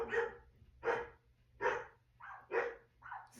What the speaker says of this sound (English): You hear my dogs now.